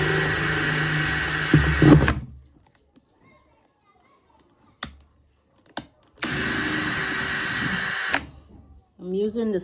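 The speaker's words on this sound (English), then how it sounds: "So I'm drilling holes" A self-drilling screw is driven with a power drill to bore holes in plastic at a roofing build site in Ghana. Two loud, close whirring bursts come several seconds apart, with faint clicks and knocks in the quiet gap between them.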